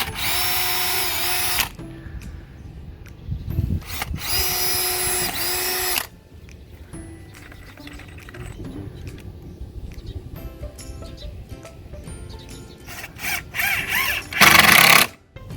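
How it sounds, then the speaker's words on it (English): Power drill driving screws into wooden raised planter box stakes outdoors, two loud sustained whirring bursts separated by pauses, then quieter handling and shuffling, with a final short high-pitched burst near the end. "I'm just going to screw them on from the other side and they'll be all set."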